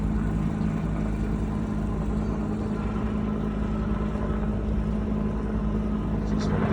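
Firefighting helicopters working the Canyon Ferry forest fire on a hot, windy day make a steady, distant, low rumbling drone that holds without a break throughout.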